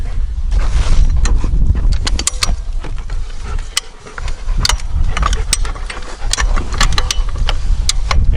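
A tyre being flipped over and worked around by hand, giving close, continuous rubbery creaks, scrapes and mechanical clicks with scattered sharp taps, fairly loud throughout with a brief lull midway.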